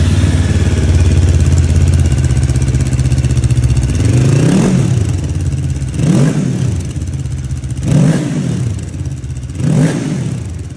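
A Hanway Heritage 400 motorcycle engine with stock exhaust idles with a low rumble, then revs up sharply four times, each throttle blip rising and falling back to idle.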